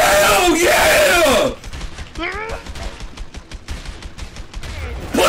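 Gunfire in the video game A Way Out: a rapid burst of shots and impacts amid loud yelling and game commotion, with excited voices shouting over the action.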